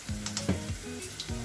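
Onion frying in oil with red chili powder, a soft sizzle under short bursts of clinking and scraping from stirring, close and quiet.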